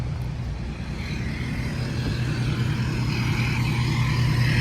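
A crashed 2022 Nissan Sentra with a cracked windshield, a no-start car, arrives with a steady low vehicle rumble that grows slightly louder, likely from a transporting truck, with no voices.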